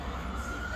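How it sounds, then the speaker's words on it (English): An emergency vehicle siren passes along a street in Ypres, a steady wailing tone heard at a distance, quiet and continuous beneath low traffic rumble. "just let this siren go past"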